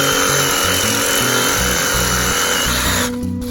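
A power tool cuts through sharp-leaved yucca palm limbs during trimming, loud and close with a steady buzzing drone and pulsing low chug, easing off slightly at the very end.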